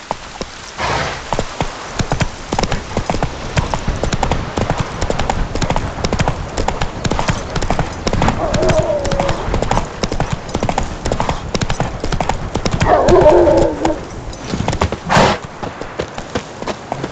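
A horse gallops in The Witcher 3, a fast, continuous drumming of hoofbeats with a brief whinny and a swell of rain-like background noise, steady and fairly loud throughout.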